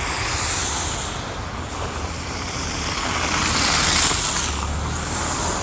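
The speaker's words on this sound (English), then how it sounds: "Probably a big semi." Big semi truck rumbling along a snowy road in Syracuse during Winter Storm Ember, a steady low broadband roar with wind, swelling slightly as it passes at a moderate distance.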